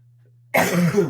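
A single harsh cough, close and loud, breaking abruptly out of near silence.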